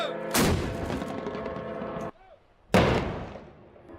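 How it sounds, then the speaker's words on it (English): Celebratory cannon shots fired in Monaco after royal twins were born, two loud booming blasts a couple of seconds apart, each followed by a long rolling decay, with bells and crowd noise beneath. "Church bells rang and cannon shots were fired in celebration following the news"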